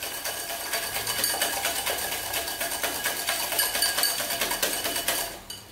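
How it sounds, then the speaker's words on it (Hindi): An electric mixer beats butter and powdered sugar into a light, fluffy cookie mix, a steady whirring buzz with rhythmic pulses that cuts off near the end. "1/2 कप बटर और शुगर को आप अच्छे से मिक्स कर लें ताकि वो लाइट और फ्लफी हो जाए"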